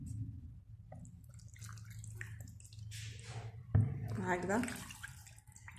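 Water is poured over chicken in an oven dish, a close splashing, trickling stream heard under a woman's speech.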